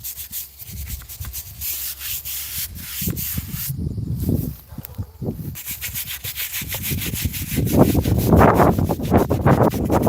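Veterans' headstones are scrubbed clean outdoors with repeated rough rubbing strokes, uneven in rhythm, close to the microphone, with light wind noise.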